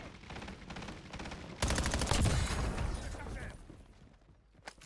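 Video game gunfire comes as a loud, rapid automatic burst in the middle, with quieter clicks and rattles of reloading around it and a sharp click near the end.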